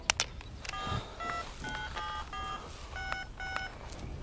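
Mobile phone keypad dialing tones in a TV crime drama, a rapid series of short, clear beeps pressed one after another with a few clicks at the start, close and fairly loud.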